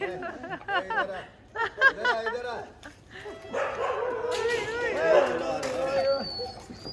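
Several dogs at a shelter bark and yip in short bursts as they come close, mixed with a man calling and laughing over them.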